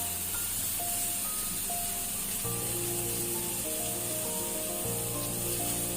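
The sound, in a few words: vegetables frying in a pan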